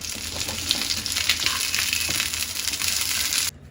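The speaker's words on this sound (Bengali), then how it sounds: "আমি একটু চিংড়ি মাছ ভেজে নিচ্ছি।" Shrimp fry in a pan with a dense, crackling sizzle and scraping stir, held steady for a few seconds before it cuts off abruptly.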